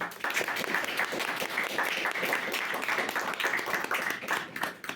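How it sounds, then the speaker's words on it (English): An audience applauds at the close of a panel discussion on transgender rights, a sustained moderate round of many hands clapping from a small room crowd, steady throughout with no voices over it. "Big applause to Aurora, please"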